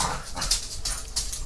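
Several dogs yipping, whimpering and barking in playful bursts in the background of a room, repeated short calls at moderate volume.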